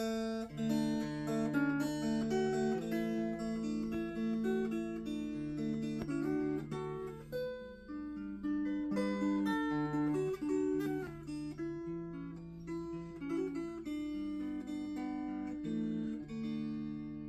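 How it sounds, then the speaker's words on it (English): A plucked five-string mountain dulcimer in DAD tuning plays a slow, steady melody over a ringing drone, bright twangy notes sustaining up close with no voices. "there I was just using the regular standard 3 dulcimer strings in DAD tuning"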